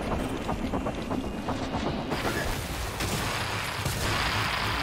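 Rapid bursts of gunfire from weapons in the sci-fi video game Prey, sharp repeated shots over a steady rumbling background, with no voices.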